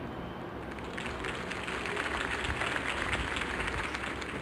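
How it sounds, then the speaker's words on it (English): Dense crowd applause fills the space in a Batman: The Telltale Series game scene, a steady wash of many hands clapping at moderate volume, swelling slightly midway. "could have heard that applause"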